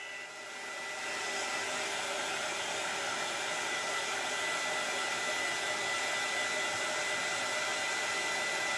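A hair dryer runs steadily at close range, a loud constant whoosh with no breaks, drying chalk paste on a craft transfer.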